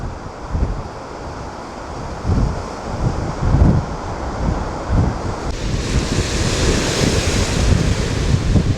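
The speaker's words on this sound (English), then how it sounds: "with all those big waves" Big waves from Lake Erie wash up a beach in Cleveland at high tide, surging and crashing in repeated rolling bursts, loud and close, with heavy wind buffeting the microphone. Nobody speaks.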